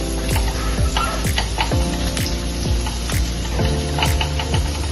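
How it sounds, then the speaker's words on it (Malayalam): Chopped garlic and green chilli frying in oil, a steady loud sizzle with regular clinks and scrapes of a spoon stirring the pan, no talk. "ഈ വെള്ളുള്ളി, പച്ചമുളക് ചെറുതായിട്ട് അരിഞ്ഞത് ഈ പൊരിച്ച എണ്ണയിൽ തന്നെ ഇങ്ങനെ നല്ലോണം ഒന്ന് ഇങ്ങനെ ആക്കി എടുക്കണം"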